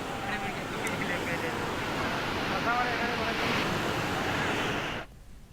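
Floodwater pours steadily down the Jadi Malkapur waterfall in Sangareddy district after heavy rain, a loud continuous rushing roar that holds for about five seconds and then cuts off abruptly.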